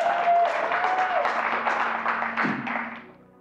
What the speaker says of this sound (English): Weak applause.